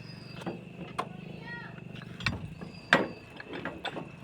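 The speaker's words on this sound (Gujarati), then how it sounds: "હાલો ડેલી ખોલો કે અમે ખોલી નાખી" A village gate is pushed open with a few creaks and mechanical rattles and a sharp clank near the end. Voices talk over it.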